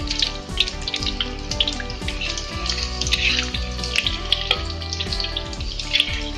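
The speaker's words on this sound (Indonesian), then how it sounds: "masih dalam tahap penggorengan guys" Goat meat frying in a pan for kambing lasuna, a steady close crackling sizzle with scattered pops throughout and no voices.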